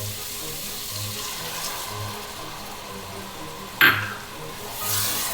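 Wine is poured into a pot of beef goulash. A faint, steady liquid trickle ends in a brief, sharp splash and then a soft sizzle, with no talking.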